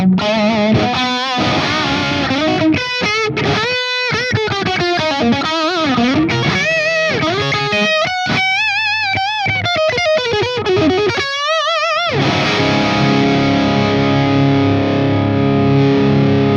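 Guitar through a Carvin MTS 3200 amplifier, gain at midday with mids and treble raised: loud overdriven playing with fast bent lead lines and sliding notes, ending in a sustained distorted chord ringing out.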